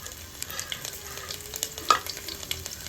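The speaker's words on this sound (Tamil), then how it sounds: "பூண்டு சோம்பும் நல்லா எண்ணெயில் கோல்டன் ப்ரௌனில் ஃப்ரை ஆகணும்." Crushed garlic and fennel seeds fry in oil, a close, even sizzle with light stirring taps running throughout.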